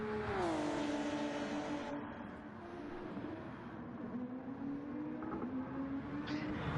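A Gr2 race car engine in the racing game GTCA screams at high revs, its pitch dipping then climbing steadily, loud and continuous throughout.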